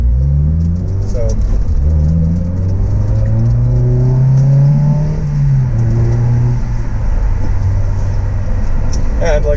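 A Honda S2000 idles as it warms up before an oil change, a steady close engine rumble with a faint rise in pitch midway, and what sounds like a voice running over it.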